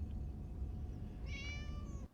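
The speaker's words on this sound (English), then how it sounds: "Tell him he is a pretty cat." A cat in a Star Trek: The Next Generation episode lets out a short, thin meow partway through, fairly faint over a low background rumble, followed by a brief sharp noise at the end.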